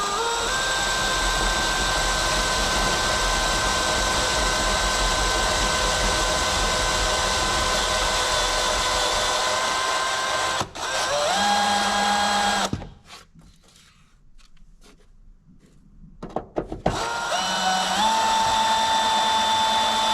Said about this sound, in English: I got my Christmas tree bit on here to drill these rivets out.